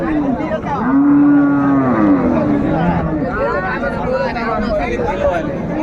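A Sahiwal cow with calf lets out a long, loud moo early on at Raniganj cattle haat, followed by softer lowing, with nearby voices and market chatter running underneath.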